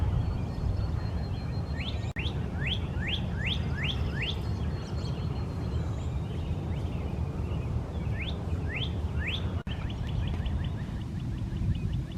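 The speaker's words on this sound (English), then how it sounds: "I hear a cardinal." A cardinal sings in a park with a series of clear rising whistled notes, a run of six followed by a pause and three more, over a constant broadband outdoor rumble.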